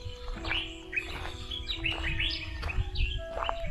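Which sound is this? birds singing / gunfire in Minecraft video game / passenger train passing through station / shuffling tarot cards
birds singing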